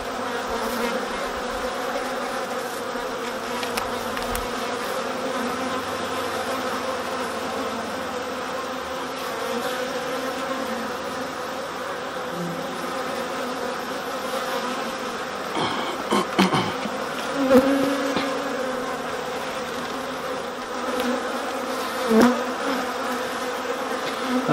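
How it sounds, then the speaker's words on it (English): Many honeybees hum in a dense, steady drone around a hive, with occasional louder buzzes as individual bees fly close past. "So a lot of the bees are out"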